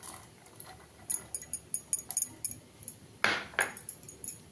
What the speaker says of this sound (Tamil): இப்போ இந்த முட்டையை வந்து கலக்கிக்கலாங்க